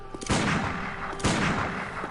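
A quick-firing pistol in the game Bloodborne, two loud close shots about a second apart, each with a sharp crack and a short rumbling tail.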